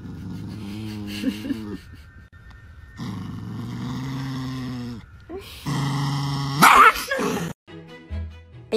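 Angry chihuahua growling and yipping in short bursts with whiny, voice-like snarls, close and loud, with brief pauses between outbursts and a sharp yelp near the end.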